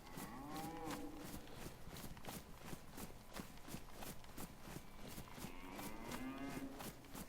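Cows in the video game DayZ moo repeatedly, with several long, drawn-out lowing calls near and far over a steady rhythm of footsteps and movement noise.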